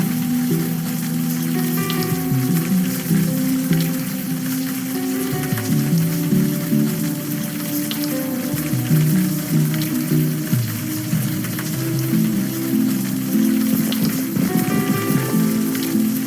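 Steady, dense rain pattering on surfaces in the video game Unavowed, a continuous close hiss with a low engine-like hum underneath and no voices.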